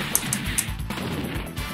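Sharp glassy shattering block hits from the fighting game Darkstalkers, several quick bright cracks in a row over game music, with no talking.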